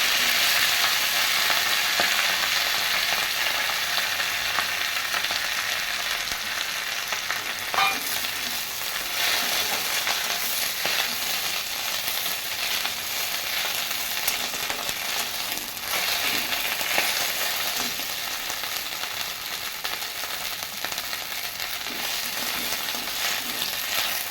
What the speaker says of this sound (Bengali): শাকটা আমার ভাজা ভাজা হয়ে গেছে